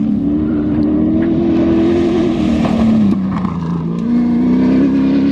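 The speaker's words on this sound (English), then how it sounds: "this is the mad bit when you see like the cars come absolutely flying past the bike" Dakar Rally cars racing past a bike in the dust, a loud, close engine drone holding steady pitch, then dipping and climbing again as the vehicles roar by continuously.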